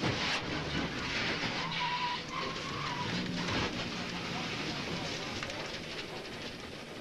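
Engine roar and rushing wind fill the on-board camera of a vintage NASCAR stock car as it races and makes contact with another car on the track, with a commentator talking over it.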